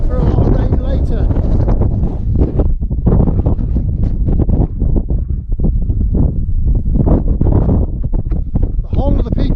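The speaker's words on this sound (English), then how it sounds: "It's windy, very windy." Strong gusty wind buffets the microphone at a wild campsite in the Peak District, a loud, rough roar that pulses in uneven bursts from start to finish.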